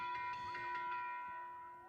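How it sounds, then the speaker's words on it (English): A bell rung repeatedly at a women's soccer match between Carolina Ascent FC and Tampa Bay Sun FC, giving bright, ringing metallic strikes that sustain and slowly fade, heard fairly clearly with crowd ambience beneath. "everybody ringing the bell there."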